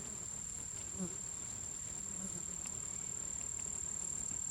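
Bees buzz steadily around a wild honey nest outdoors, a dense continuous hum that holds at a close, even level throughout with no one talking.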